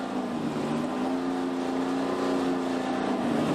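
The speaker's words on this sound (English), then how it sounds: "Richard Chester warms up his 1987 Tiger Buick GTP car" A 1987 Tiger Buick GTP race car warming up at a Group C/GTP circuit meeting, its engine holding a steady buzzing idle with a slight rise near the end, continuous and fairly close.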